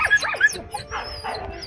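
A dog whimpers in high, thin whines, then gives a few short, close barks and yips.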